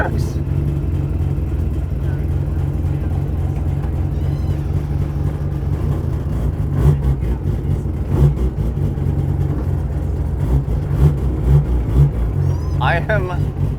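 A car with a Mazda 13B rotary engine runs with a steady, buzzy low drone and small rises in revs, heard up close while people talk over it.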